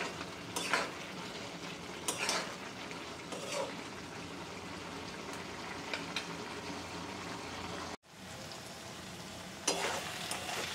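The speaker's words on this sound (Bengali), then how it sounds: "সবগুলো একসাথে ভালো করে মিশিয়ে নেব।" Shrimp and snake gourd curry being stirred in a pan, with a steady sizzle and soft bubbling under occasional louder scrapes of the spoon against the metal, a brief cut near the middle.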